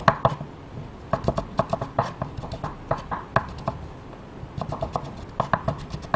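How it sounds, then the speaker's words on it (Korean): A knife slicing bellflower root (doraji) into thin strips on a cutting board, a quick run of crisp, close taps in uneven bursts with brief pauses between, heard on its own without talk. "도라지는 채 썰어 줍니다"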